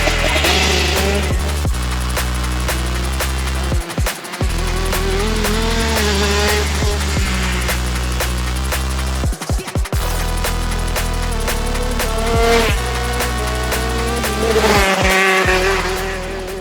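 A race car drives laps on a track, its engine revving up and down through gear changes with tire squeals and skids, loud and close, in repeated waves of acceleration with brief gaps.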